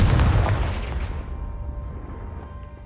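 The Confringo fire spell from Hogwarts Legacy goes off as a single heavy booming blast up close, then its rumbling tail fades out over a couple of seconds.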